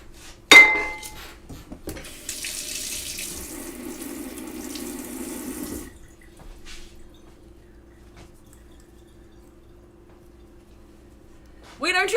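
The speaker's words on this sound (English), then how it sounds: "Two. Little whisk. Oh yeah. I think I already used it. I gotta wash it." A little whisk is rinsed under a running kitchen sink tap, with a faint clink first, then a steady splash of water for about four seconds that stops abruptly, leaving quiet room tone.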